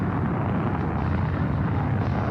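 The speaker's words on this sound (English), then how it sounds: "We have ignition. Commit liftoff. We have liftoff." An Apollo 7 rocket ignites and lifts off from Launch Complex 34, sending out a deep, dense, continuous roar that stays loud and steady throughout.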